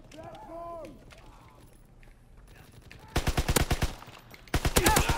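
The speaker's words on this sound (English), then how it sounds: "This game we're going with the mountain grease gun setup." A grease gun fires in a video game, first faintly behind game sounds and then in two loud, rapid automatic bursts near the end, each a tight string of sharp reports.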